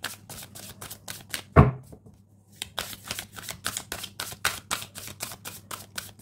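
Tarot cards riffled and shuffled in a rapid run of crisp papery slaps, broken by a single sharp tap and a short pause before the steady rhythmic shuffling resumes, close and fairly loud.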